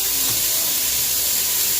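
Shirataki noodles steaming and drying in a hot dry pan, a continuous loud airy hiss with faint low rumbling underneath, steady throughout.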